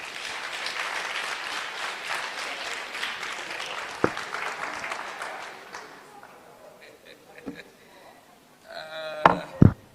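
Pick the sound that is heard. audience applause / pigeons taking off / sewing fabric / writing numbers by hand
audience applause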